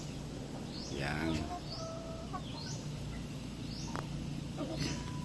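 Chinese chickens, a rooster among them, kept as new pets, giving short chirps and clucks over a steady outdoor background, with a few sharper calls scattered across several seconds and soft human voice in the mix.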